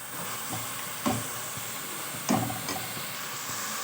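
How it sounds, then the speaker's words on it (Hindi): Spiced masala for keema karela frying over a high flame, a steady close sizzle broken by a few louder scrapes and stirring clatters, with no talking. "5 मिनट तक आप इसको तेज़ आंच पर को मसाले को भूनिएगा अच्छी तरीके से"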